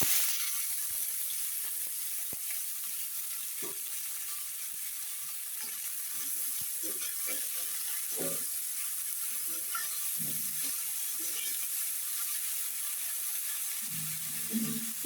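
Chopped vegetables sizzle steadily in a hot pan with tempered spices and small fish, giving a constant bright hiss with occasional soft stirring knocks and clatter.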